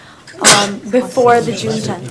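A single sharp sneeze bursts out near the start at a school board meeting, followed immediately by a person speaking.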